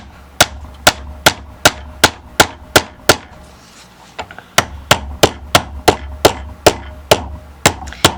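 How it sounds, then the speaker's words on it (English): Hammer blows drive pins into a wooden yarn weaving board for a Winnie the Pooh craft: about eighteen sharp, close, evenly spaced strikes, with one short pause in the middle. "I'm going to wrap it around this one a couple of times and hammer it in."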